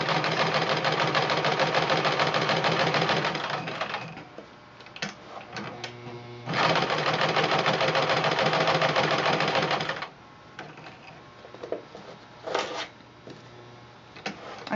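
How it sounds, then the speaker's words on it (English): Sewing machine with a denim needle stitching paper along a traced line, running in long steady buzzing runs that stop and restart, with quiet handling clicks in the pauses. "Now, as you sew, you're going to just sew exactly on the line that you traced."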